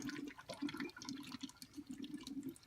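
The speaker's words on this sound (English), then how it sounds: "This is the little water cooling pump." A small centrifugal water cooling pump runs in a plastic bottle, giving a steady watery churning and gurgling with a faint pulsing rhythm, heard up close and alone.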